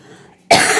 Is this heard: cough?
yes